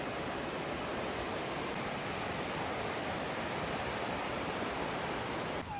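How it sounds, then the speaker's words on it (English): Icicle Creek, a river-sized mountain stream, rushes in a broad, steady roar of water that fills the whole span evenly with no talk. "here is our first glimpse of Icicle Creek. I would almost want to call this more of a river than a creek"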